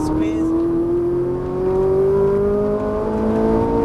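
Ferrari 458 Italia engine pulling hard on a race track, its loud, close tone climbing steadily as it accelerates over a few seconds.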